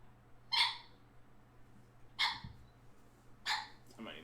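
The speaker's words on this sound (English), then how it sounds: "She has her squeaky toy in here." Three sharp squeaks from a dog's squeaky toy, spaced about 1.5 seconds apart, each short and fairly close, over a quiet indoor background with low hum.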